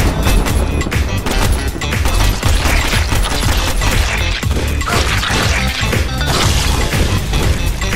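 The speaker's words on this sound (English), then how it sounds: "Machine gun rounds" Dense, continuous machine gun fire in the video game Railbreak, a loud, rapid hail of shots and crashing impacts running unbroken throughout.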